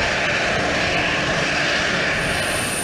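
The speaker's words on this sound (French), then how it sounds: "l'appareil d'Air Madagascar fait son entrée de notre espace aérien" An Air Madagascar airliner arrives over Plaisance airport, a loud steady aircraft engine roar with a broad hiss and a high whine coming in near the end, and no voices.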